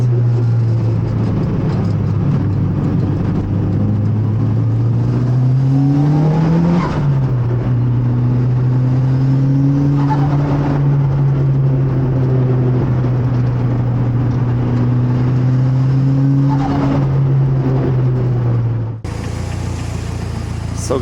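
A Mitsubishi Lancer Evolution V driving on Swiss mountain roads, its engine droning loud and close, pitch rising through a rev near the start and then holding a steady cruise, cutting to a different sound at the very end.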